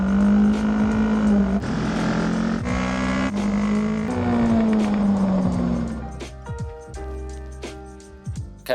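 A Honda CB500 race bike, newly built, is ridden at a track for its run-in, its engine droning loud and close through rising and falling revs, then backing off and fading into lighter, patchier sound near the end.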